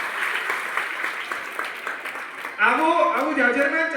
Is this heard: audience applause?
yes